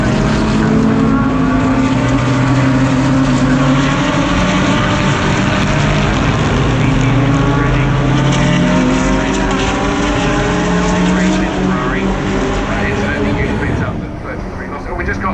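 GT race cars at the Brands Hatch circuit during a GT World Challenge race, engines roaring loudly and continuously as cars run side by side, with commentary heard over the noise.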